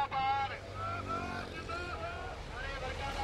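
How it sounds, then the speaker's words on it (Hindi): Convoy of farmers' tractors rolling along a highway toward Delhi during a protest, a steady engine drone with passing motor noise and high tonal whines, fairly faint and continuous with no talk. "आप मेरे पीछे देख सकते हैं कि ट्रैक्टरों का काफिला जो है वो किस तरह जो है दिल्ली की तरफ बढ़ रहा है।"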